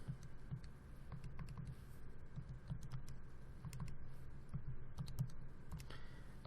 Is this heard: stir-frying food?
no